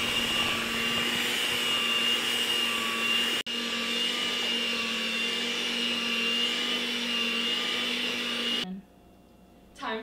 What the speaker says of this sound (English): Time to blend.